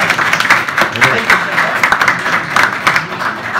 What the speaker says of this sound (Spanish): un buen aplauso para Serkan y todo su equipo